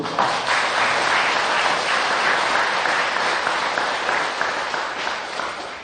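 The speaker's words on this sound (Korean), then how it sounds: "박수, 큰 박수." Loud, steady applause comes from a gathering at a Buddhist dharma talk as people clap for newcomers, with dense clapping sustained for several seconds and tapering slightly at the end.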